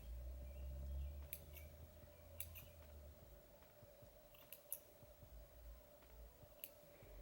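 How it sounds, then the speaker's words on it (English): Scissors snip the tips of curly hair in quiet, sparse clicks, several small cuts spread across a soft, steady background hum. "I'm just going to be dusting off the very tip of my hair"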